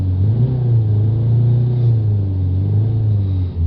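Steady engine drone from a Citroën Berlingo with a DPF and NOx fault, held at a fairly constant pitch with a slight rise early on, continuous and close with no talking.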